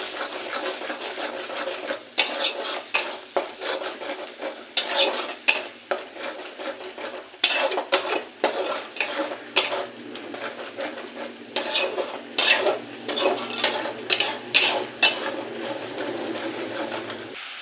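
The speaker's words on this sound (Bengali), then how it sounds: "মশলাটাকে কষিয়ে নেব।" Ground spice paste with salt, turmeric and chili powder is stir-fried in a pan for fish curry, with repeated close scraping and clanking of a spatula in bursts over a low background sizzle.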